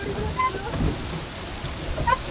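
Heavy rain pours onto Yediyuru Lake in Bengaluru, heard from a boat as a dense, constant hiss with low rumbling underneath.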